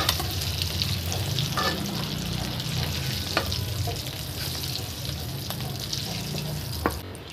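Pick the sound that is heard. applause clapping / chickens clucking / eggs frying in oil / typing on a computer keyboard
eggs frying in oil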